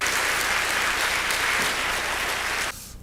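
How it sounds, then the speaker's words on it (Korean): A church congregation applauds to welcome guests, loud dense clapping that fills the room for a few seconds and then stops abruptly. "여러분 뜨겁게 환영의 박수로 박수하겠습니다."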